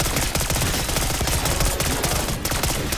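Rapid SMG fire in a Call of Duty-style zombie mode, a loud continuous stream of rattling shots with a fast steady rhythm and hardly any pause.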